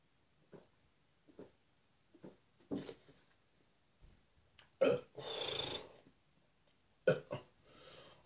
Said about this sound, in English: apologise for the burping in this video